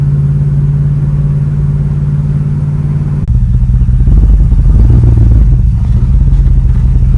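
The engine of a 1965 Chevrolet Nova wagon with a new Holley carburetor drones loudly at a steady idle, then rises into a rougher, louder rumble as it accelerates, heard close with no talk.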